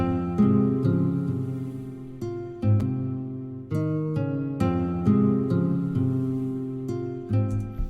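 Soft, sustained Omnisphere synth strings layered under a plucked guitar in a steady, low-key chord progression, with repeated strummed attacks at an even pace.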